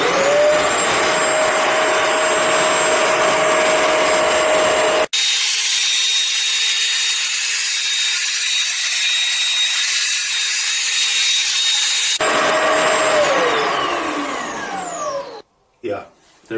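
A Bissell ProHeat Revolution 800 W carpet cleaner runs with a loud, steady motor whine and suction roar during dry passes, shifting tone twice, then spinning down with a falling pitch near the end.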